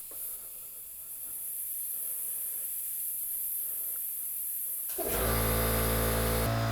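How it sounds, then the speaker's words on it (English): An air compressor pressurizes a snow injection boost cooler system, giving a steady hiss that grows louder into a strong mechanical whine and rush near the end, with no talking. "It's probably going to be noisy whenever the compressor kicks on here"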